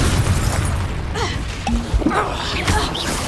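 Reducto spell blasts in the Hogwarts Legacy video game, heard as short bursts and pops among game sounds and brief voice calls, fairly loud and close throughout.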